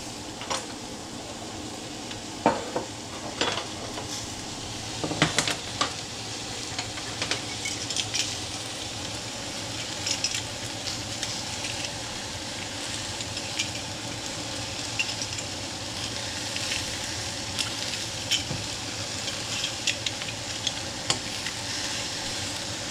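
Garlic and bok choy stir-fry in a hot pan with a constant steady sizzle, while a utensil scrapes and knocks against the pan in scattered clicks throughout.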